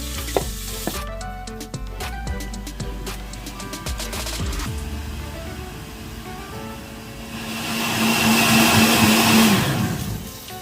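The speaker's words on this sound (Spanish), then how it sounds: "Y vamos a licuar." A kitchen blender whirs through a sauce with oregano, cumin and thyme, starting after a run of clattering handling noises and rising to a loud, steady roaring spin near the end.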